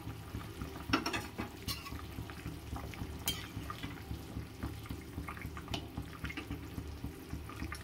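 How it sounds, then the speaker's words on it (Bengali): A pot of curry broth with eggplant at a rolling boil, a low steady bubbling and churning close by, with a few faint clicks and a brief clatter over it. "ঝোলটা একদম টকবক করে ফুটে গেছে"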